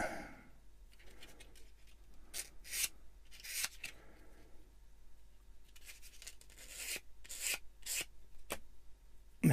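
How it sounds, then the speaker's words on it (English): Short rasping bursts of a hand sander smoothing plastic model kit parts for a Cat-Cat leg assembly, several quick strokes in irregular rhythm, close and fairly quiet with pauses between. "Quick little dress up with the sander"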